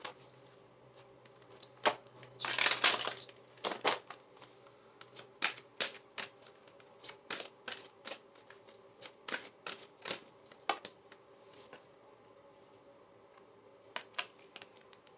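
Goddess Guidance oracle cards being shuffled by hand, a quick riffle burst followed by many crisp, irregular card slaps and flicks, close and fairly quiet, with no voice.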